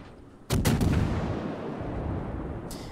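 Heavy 203mm naval guns of the cruiser Mogami firing in World of Warships, a loud sudden salvo of several close booms followed by a long rumbling decay, then another distant shot near the end.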